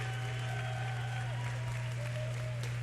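Steady applause from the audience at the Splatoon 2 World Championship, a dense even wash of clapping with a constant low hum underneath and no clear talking.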